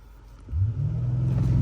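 A BMW M5 Competition launches hard from a standstill. The engine rumbles low, then swells into a steady, rising drone of acceleration with no voices over it.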